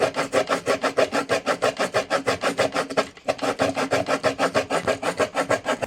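Hand saw cutting a wooden batten held in a saw guide, a steady run of about thirty quick back-and-forth rasping strokes, close and loud, with one brief pause midway and no voices.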